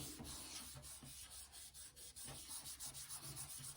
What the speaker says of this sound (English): Back and forth. Make sure you get all the edges. Just rubbing it on.